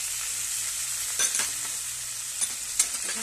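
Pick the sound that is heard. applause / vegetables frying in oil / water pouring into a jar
vegetables frying in oil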